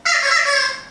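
A noisy chicken lets out one loud, close, sustained squawk that lasts under a second and tapers off, with no voices.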